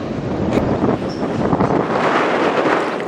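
Strong wind buffets the microphone at the Sarnia rail yard, a loud, continuous rumbling roar with gusty surges throughout and no voices.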